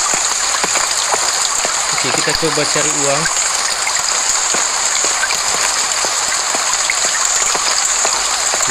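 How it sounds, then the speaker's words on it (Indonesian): Heavy rain pours steadily in a city street, a loud continuous hiss with scattered drop impacts, while someone speaks briefly over it. "Hujan deras nih"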